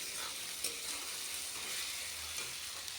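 Chili powder, turmeric and salt sizzle steadily in hot oil in a pan as a spice paste cooks for a meat and new-potato curry, with a dense, even frying hiss throughout and no talking.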